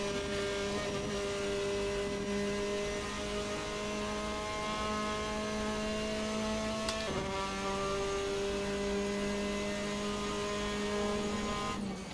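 Formula 4 race car at Sachsenring in Assetto Corsa, holding a steady high engine drone with a sudden downshift blip partway through, the pitch dropping and then settling again; close and continuous, no talking.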